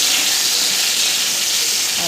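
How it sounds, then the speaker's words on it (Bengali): Potatoes and drumstick pieces fry in a pan, giving a steady, close, loud sizzling hiss that holds evenly throughout without a break. "হওয়ার পরে আলু আর সজনেটাও ভাজা ভাজা হয়ে গেছে।"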